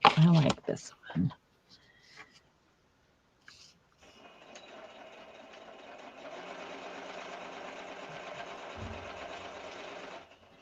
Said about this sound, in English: it's just sewing machine.